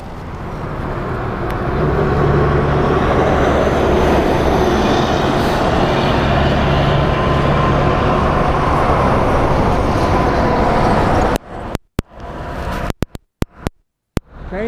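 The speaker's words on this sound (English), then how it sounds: "Ooh, I hear a train coming." A train coming along railway tracks, a loud steady rumbling roar that fills most of the clip and then breaks off into gusty, choppy bursts near the end, with no talk.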